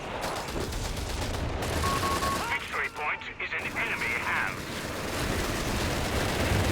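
Machine gun fire rattles through a Company of Heroes 3 battle, long sustained bursts with scattered distant explosions, mid-level volume under a commentator's voice.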